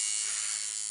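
A tattoo machine buzzes steadily during tattooing, giving a close, continuous high-pitched electric hum with no break and no voices.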